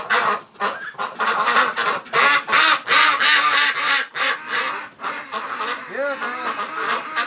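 Ducks kept outdoors in winter under a feeder quack and honk over and over, loud and close, in a noisy, busy run of calls that almost never lets up.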